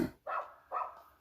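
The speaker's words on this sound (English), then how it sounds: "my neighbour's dog and my window's open, so you have to excuse the barking." A neighbour's dog outside an open window barks twice, two short separate barks a moment apart, somewhat distant and moderately quiet.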